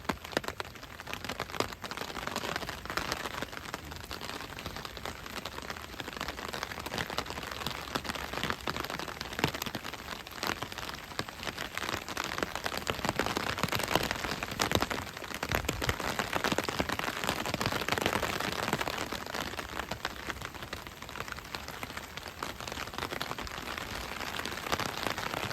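Steady rain falls on an Amsterdam canal-side street at Levantkade, a dense, even hiss of drops that continues for about 25 seconds with no one speaking.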